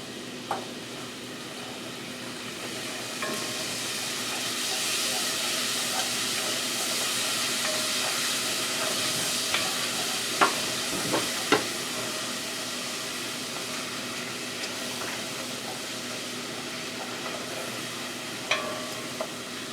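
Butter melting into a turkey fettuccine Alfredo sauce in a pan, a steady sizzling hiss with occasional light clicks of a utensil while stirring.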